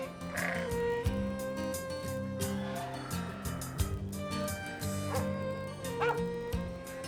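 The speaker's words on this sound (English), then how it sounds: "As we walked with the dogs, as they herded the sheep out towards the mesa, Helen told us" Dogs bark and yip repeatedly while herding sheep toward a mesa in Arizona, amid a busy outdoor mix of animal sounds, steady and fairly close, with a constant background hum.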